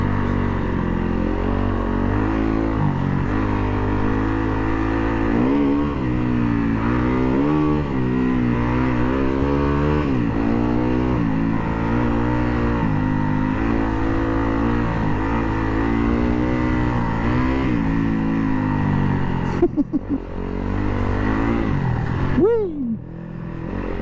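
A 2019 Yamaha WR250F dirt bike engine drones steadily on a rocky trail ride, its pitch rising and falling with throttle changes, close and loud throughout, with a sharp burst and a brief dip near the end.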